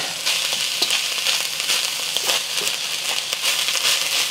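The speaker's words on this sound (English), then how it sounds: "We just want to dry fry this so that we can get more of the moisture released and evaporated." Noodle ingredients dry frying in a hot wok give a steady, close sizzle and crackle, broken by light scraping and stirring strokes, with no talk.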